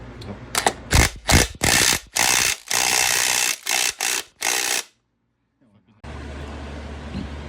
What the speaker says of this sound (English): now we got the special socket on the pulley. We got the special tool on the back, and see how she goes.